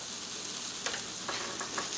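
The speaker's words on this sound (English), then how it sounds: "You can hear it sizzling." Soft steady sizzling hiss of a Cuban sandwich frying in a hot press, with a few faint crackles and pops, no voices.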